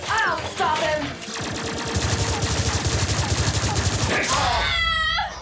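Rapid gunfire in an animated Transformers parody as a female character shoots at Megatron, a dense rattling volley lasting several seconds under music and effects, with brief voices at the start and end.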